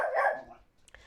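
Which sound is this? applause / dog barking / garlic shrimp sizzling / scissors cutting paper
dog barking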